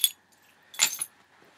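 A set of house keys jangles close by in two short bursts, a quick clink at the start and a fuller metallic rattle a moment later, with quiet between and no talking.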